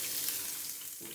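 Chopped onion and plenty of garlic frying in oil, a soft, continuous hiss of sizzling with a faint stirring scrape near the end, heard close and alone.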